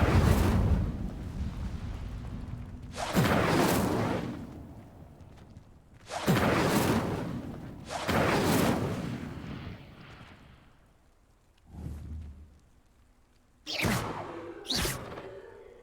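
Fire spell bursts cast in Hogwarts Legacy, a series of loud whooshing, crackling blasts arriving in irregular pairs with short quiet gaps, ending with two sharper bursts.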